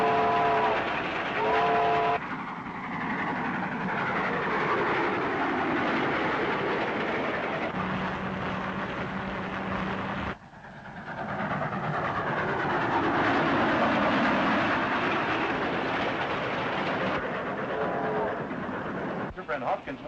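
A steam train runs along with rhythmic rail clatter and rumble, and its whistle sounds in short harmonic blasts near the start and again toward the end, with faint voices mixed in.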